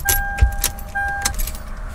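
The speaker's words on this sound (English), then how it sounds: "turn the ignition key to the on position" Ignition key turned to the on position in a Lexus GX470, with a brief metallic key jingle and clicks over steady dash warning chime tones that stop and restart partway through.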